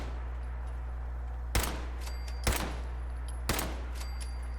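Three sharp, evenly spaced gunshots from a modded DKS-501 sniper rifle in Fallout 4 on Xbox One, about a second apart, each loud and abrupt with a brief ringing tail over a low steady hum.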